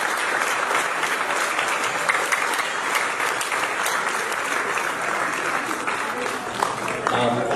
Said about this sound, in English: So big round of applause just for the entire volunteer group.